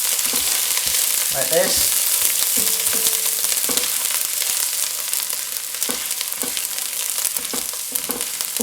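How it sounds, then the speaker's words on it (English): Ginger, cinnamon and bay leaf frying in a pan for an easy chicken curry, a steady loud sizzle throughout with brief stirring scrapes and a short spoken phrase early on. "Cook off the ginger a bit,"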